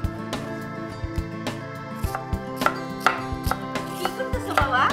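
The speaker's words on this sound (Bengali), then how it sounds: "পেঁয়াজ কাটি মা, পেঁয়াজ।" Onions being chopped on a board with a knife, a series of crisp, fairly regular close chops, about a dozen in quick succession, over a steady tonal background.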